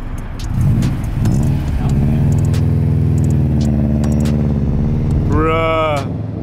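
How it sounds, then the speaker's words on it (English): A purple Subaru in a parking lot revs its engine hard, a loud steady drone building to a rising whine at the end, with people talking over it close by. "So just hella build up the RPM and just like go up the clutch."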